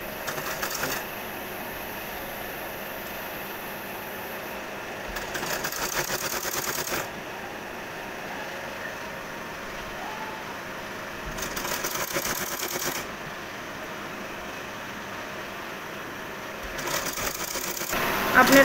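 A sewing machine stitches scraps of fabric into a child's pants, running in several close, steady bursts separated by pauses, with quiet room noise between runs.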